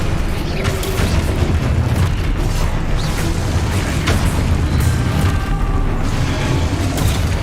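Spells being cast in Hogwarts Legacy set off a dense, loud run of booms, bursts and crackling impacts that fill the whole stretch without a break.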